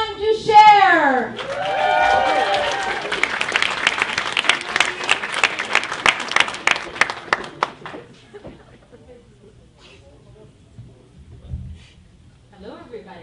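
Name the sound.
comedy club audience applause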